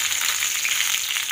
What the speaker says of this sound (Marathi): आपलं तेल गरम झालं आहे, त्याच्यामध्ये मोहरी टाकूया, जिरा टाकूया, कढीपत्ता